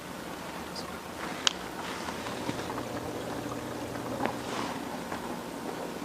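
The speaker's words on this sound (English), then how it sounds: "Drain pump kicks in." The drain pump of a newly installed Frigidaire dishwasher with a polymer tub pumps water out as a steady low churning gurgle, with small splashes and a few faint clicks over it.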